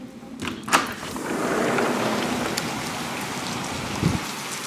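Steady rain falling outside during an evening Christmas parade, a continuous hiss of drops on surfaces, with a couple of soft knocks and thuds near the start and end.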